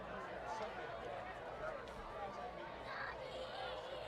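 Crowd at a night high school football game at Leary Field, a steady murmur of chatter and hubbub from the stands, fairly quiet and continuous, with nearby voices talking over it.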